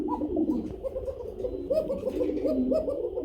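Several pigeons coo in a dense, continuous murmur in a loft full of fancy breeds, including an 8-feather hen; the low warbling calls overlap steadily, fairly close, with no talk.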